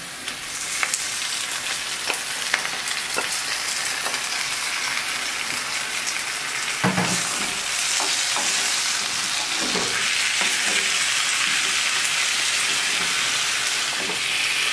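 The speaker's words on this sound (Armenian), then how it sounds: "Սոխն ու սխտորը արդեն տապակվեց, հիմա կավելացնեմ մանր կտրատված պղպեղը եւ սմբուկները։" Finely chopped peppers and eggplant fry with onion and garlic for ajvar, a steady close sizzle with scattered clinks and scrapes of stirring, continuous and without talk.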